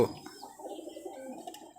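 Faint, soft cooing from a tired, lightweight Giribaz pigeon just landed at night, with a couple of brief chirps, heard near and alone.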